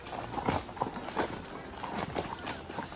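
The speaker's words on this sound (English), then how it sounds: "Let your horse have his head, and a good trail horse will just pick his way down" A horse's hooves clop down a steep rocky trail near Eminence, Missouri, in an uneven series of close, moderately loud steps, with a voice murmuring faintly in the background.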